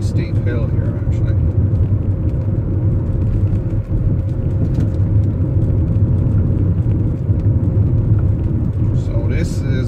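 A BMW E39 converted to electric drive climbs a fairly steep hill at about 40 mph, with a steady, loud low rumble of motor and road noise running continuously throughout.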